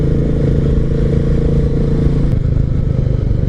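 Royal Enfield Meteor motorcycle cruising on a road on a solo ride toward Chungju, its steady engine drone loud and continuous with wind rumble, a brief shift in tone partway through.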